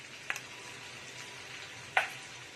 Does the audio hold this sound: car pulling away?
no